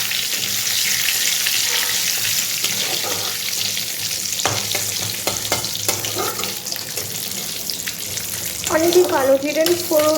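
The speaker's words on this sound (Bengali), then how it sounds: "জিরের ফোড়নটা দিয়ে দিলাম।" Cumin seeds tempering in hot oil in a home kitchen, a steady close sizzle and crackle throughout, with brief stirring clatters and a louder burst of sputtering near the end.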